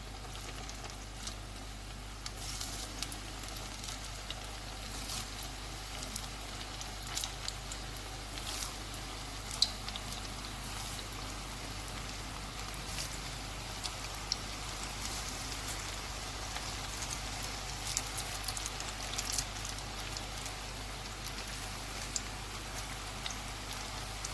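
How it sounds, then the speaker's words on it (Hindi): Chicken pakoras deep frying in hot oil over low heat, a steady, fine sizzle and crackle with scattered tiny pops, even and unbroken throughout, with no voices. "अब इनको हम फ्राई कर लेते हैं"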